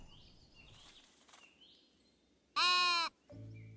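A sheep in the cozy building game Tiny Glade gives one loud, close bleat after soft bird chirps and fluttering, followed by a lower, softer sound.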